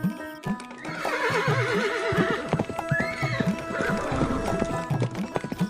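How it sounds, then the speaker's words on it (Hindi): Horse galloping as a sound effect in a Hindi audio story, with loud neighing and whinnying over rapid clip-clop hoofbeats, close and busy throughout. "घोड़ा वायु वेग से उड़ने लगा।"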